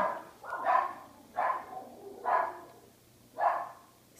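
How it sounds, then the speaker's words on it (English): Four evenly spaced barks ring out nearby, each a short, loud yap separated by brief pauses, with no talking. "My dogs are barking, sorry about that."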